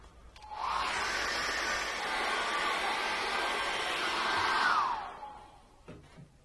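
A hair dryer runs to dry acrylic paint on a seascape canvas, a steady close whooshing roar that starts abruptly, holds for about four seconds, then winds down, with no talking.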